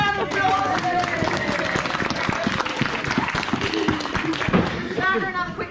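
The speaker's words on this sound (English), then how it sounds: "give them a big round of applause" A theatre audience at Australia's longest-running play in Strahan, Tasmania bursts into loud, sustained applause, dense clapping with a few cheers running throughout without a break.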